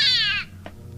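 A cat gives one clear, drawn-out meow that falls in pitch and fades within half a second, then a faint short sound follows in a quiet indoor room.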